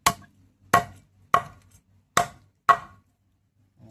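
Five sharp knife chops on a fish at the mouth, evenly spaced about half a second apart, close and crisp with brief ringing tails and silence between.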